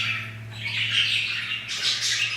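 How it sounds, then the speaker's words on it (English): Pet birds squawk and chirp loudly and close by in a continuous, overlapping chatter over a steady low electrical hum. "And the birds are out."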